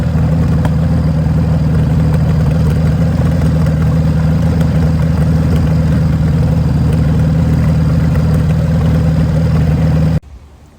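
A 1979 Honda Goldwing motorcycle engine, warmed up, idles steadily and loudly with a constant low throb and light mechanical clatter, then cuts out abruptly near the end.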